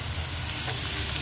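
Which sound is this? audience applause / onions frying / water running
onions frying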